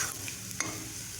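A spoon stirs ground spices into sizzling bottle gourd and moong dal in a pan, a brief scrape over a steady fry with one sharper clink, close and moderately quiet.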